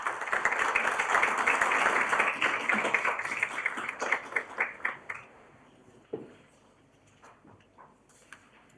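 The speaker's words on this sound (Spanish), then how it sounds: "Vamos a brindarle un fuerte aplauso" An audience at a seminar on gender equity in mining claps heartily, dense applause that thins into scattered individual claps and then a few last taps, with no talk over it.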